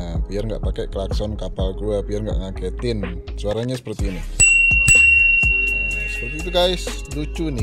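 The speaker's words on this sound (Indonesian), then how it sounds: "gue pakai bel sepeda ini, guys" Someone talks while a bright bicycle bell fitted on a Honda PCX 160 scooter rings out a couple of times, its high ding lingering briefly.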